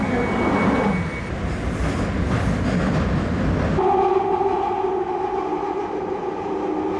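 A London Underground train on a commute, a loud continuous rumble and rattle of carriages that shifts to a steadier droning whine with tonal squeals partway through, with no talk.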